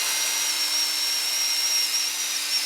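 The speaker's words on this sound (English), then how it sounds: "So we take our drill" A steady high-pitched electric drill whine drilling through a Dynam Sonic model airplane fuselage to fit wing straps, running continuously and loudly, with no pauses or talk.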